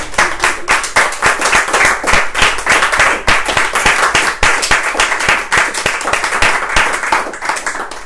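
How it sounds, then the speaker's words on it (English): An audience claps in a steady, dense burst of applause after a reading of scripture, loud and sustained with no talking over it. "We got to clap twice"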